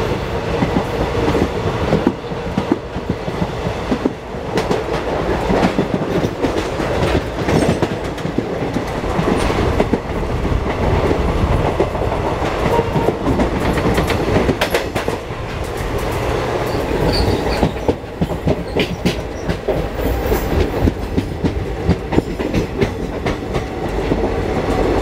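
Onboard the Nandigram Express running on track, a continuous loud rumble of carriage noise with rhythmic clickety-clack of wheels over rail joints persists throughout, close and steady.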